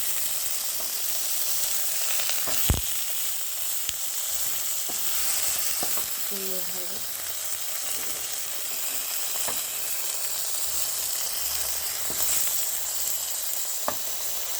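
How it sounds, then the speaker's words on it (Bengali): Prawn paturi frying in a pan as the parcels are turned over, giving a steady, loud sizzle with crackle that runs throughout, joined by a few sharp clinks of a utensil. "এরকমভাবে সুন্দরভাবে উল্টে পাল্টে ভেজে নিতে হবে।"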